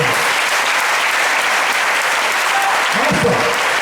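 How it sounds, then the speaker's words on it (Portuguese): A church congregation applauds loudly, a dense and steady wash of clapping from many hands that fills the whole moment, close and continuous, with a voice briefly audible near the end. "Então aplauda o Senhor Jesus bem forte"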